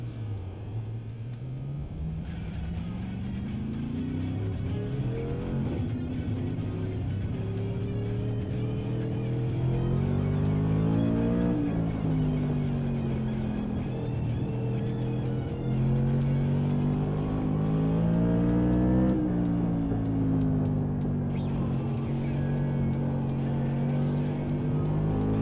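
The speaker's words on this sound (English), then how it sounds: "You hit the rev limiter in this?" In a modified-class racing video game, a car engine drones and climbs through the revs in long sweeping pulls, with a steady, loud, continuous note that rises and dips across each gear under no talk.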